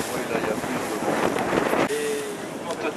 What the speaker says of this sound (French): il y a pas mal de vagues quand même, avec un vent de 12 à 15 nœuds.